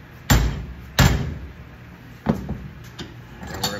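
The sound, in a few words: smacking aluminum fuselage side sheet to bend it, RV-10 build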